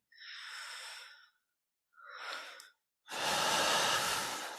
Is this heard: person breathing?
yes